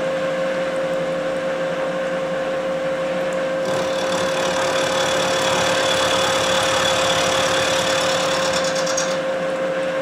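A metal lathe takes one-millimetre cuts, its motor and drive giving a steady loud hum with a constant tone throughout, and the cutting sound roughening partway through.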